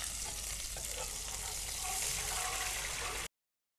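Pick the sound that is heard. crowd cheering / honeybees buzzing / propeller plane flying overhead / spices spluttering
spices spluttering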